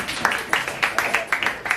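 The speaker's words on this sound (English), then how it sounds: "Round of applause for Alex Ben" Light audience applause at a sustainability talk, a small crowd clapping in loose, uneven bursts at moderate volume with no voices over it.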